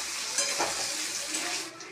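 Potato chunks frying in oil in a pan, a steady bright sizzle with some stirring, alone and fairly close, easing off near the end.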